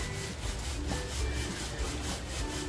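A spoon gently stirs kokum into a pan of Rawas fish masala, giving a steady, continuous scraping and rubbing with a soft low rumble underneath and no talking.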